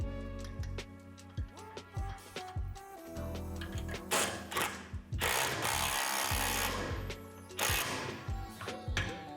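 A nut is tightened on the lifter assembly of a Lifetime 54-inch portable pump-adjust basketball system, with close mechanical clicking and ratcheting. Tool noise runs in bursts over several seconds, with louder grinding stretches in the middle.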